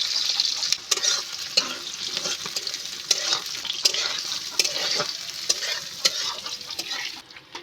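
Onions frying in a pan for a vegetarian banana-flower curry, a continuous bright sizzle close by, broken by regular scraping stirs of a spatula roughly every second, with the sizzle easing at the very end.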